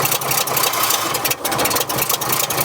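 A Ford F100 truck engine barely running with the throttle held open, a rough, uneven idle rumbling steadily and loud up close for the whole stretch, with no talking over it.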